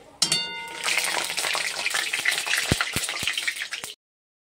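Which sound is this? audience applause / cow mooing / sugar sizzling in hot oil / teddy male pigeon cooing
sugar sizzling in hot oil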